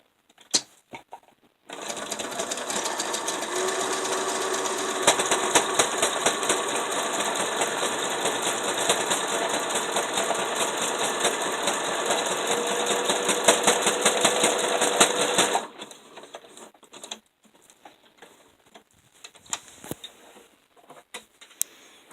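A sewing machine runs a zigzag stitch along a pad bag seam, a steady rapid mechanical patter lasting about fourteen seconds before stopping, followed by faint handling clicks.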